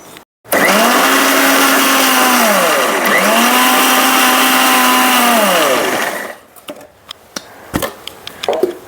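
A mixer grinder blends onion, garlic and coriander powder for a Godavari-style fish curry, whirring loudly in two long bursts with pitch dipping between them, then stopping to leave faint clicks and clatter.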